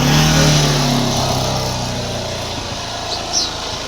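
A serviced Yamaha FZ motorcycle engine runs just after starting, a steady idling drone with a strong low hum, loud and close at first and easing slightly, with a brief faint high chirp near the end.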